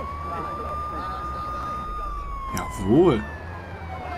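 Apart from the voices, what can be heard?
ambulance siren while riding an ambulance in the video game Watch Dogs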